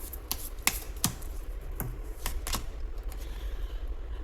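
Tarot cards are shuffled by hand, giving a quick run of crisp clicks and snaps early on that settles into a steadier, softer flutter, close and fairly loud.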